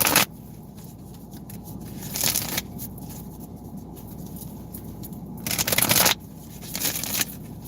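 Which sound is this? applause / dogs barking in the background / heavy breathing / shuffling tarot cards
shuffling tarot cards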